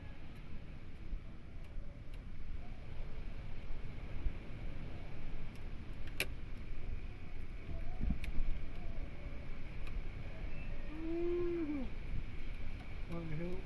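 A steady, low engine of a newly refitted fishing boat drones throughout, with faint distant sounds and a brief higher whine near the end.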